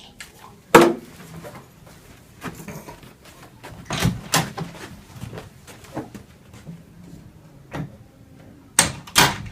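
A door is being locked, heard as a series of wooden knocks, latch clicks and a firm thud spread over several seconds, close and fairly loud, with no talking.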